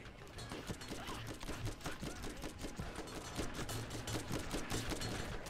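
Enemies fire at the player in the video game Borderlands, a faint, continuous rattle of rapid gunshots crackling steadily under low game ambience.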